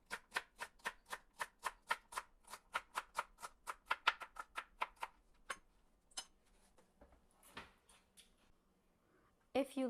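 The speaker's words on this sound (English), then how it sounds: "And we're going to dice these into very small pieces." A knife dicing celery into very small pieces on a cutting board, a fast run of about twenty evenly spaced, crisp chops that slows to a few scattered taps, with a voice briefly heard.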